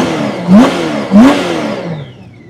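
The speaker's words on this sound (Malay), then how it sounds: "Okey, engine smooth lagi guys." 2013 Honda Gold Wing F6B Bagger flat-six engine revved twice in quick succession, each sharp blip rising and falling back to a smooth idle, loud and close with no talking.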